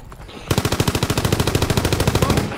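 Rapid automatic gunfire from a Call of Duty WW2 online deathmatch bursts in after a brief quiet start, a loud, evenly spaced stream of shots rattling on without pause to the end.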